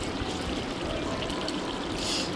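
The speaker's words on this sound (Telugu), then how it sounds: "ముందుగానే హాట్ వాటర్ పెట్టుకున్నాం కదా, అందులోనే మనం నానబెట్టిన రైస్ మొత్తం వేసుకోవాలి." Soaked rice being tipped into a pot of hot water for chicken dum biryani, giving a steady close watery pouring and splashing wash that holds for the whole moment, with no talking.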